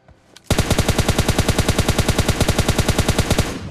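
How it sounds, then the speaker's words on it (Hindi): Rapid automatic gunfire in the mobile shooter PUBG Lite, a steady burst of about twenty-five evenly spaced loud shots after a brief quiet lead-in, continuing close and sharp nearly to the end. "तो मैंने गोली चला दी मेरे टीममेट ने भी।"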